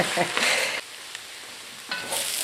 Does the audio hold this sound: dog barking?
no